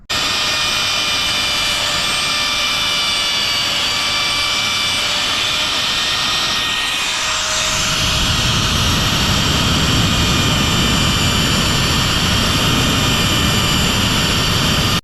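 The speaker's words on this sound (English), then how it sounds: "let me get cranked up on this thing and weed this thing out a little bit. I only got to take out just a little bit right up in here with the router" A router trims material on a Porsche 914 LS3 build, a loud steady high-pitched whine with broadband roar that continues throughout and thickens partway through as the cut bites harder.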